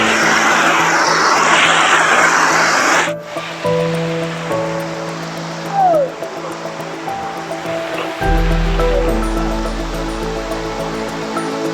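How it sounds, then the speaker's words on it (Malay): Lang Waterfall at Sungai Bako pours as a steady, loud rush of falling water. It dominates the first few seconds, then continues as a broad wash with a low rumble near the end. No one speaks. "Jadi kita dah sampai di Lang Waterfall."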